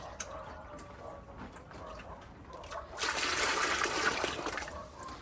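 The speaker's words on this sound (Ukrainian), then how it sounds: "наливаємо води" Water pours in a steady, rushing stream into a barrel for a couple of seconds, preceded by faint trickling and handling noises, fairly quiet and close.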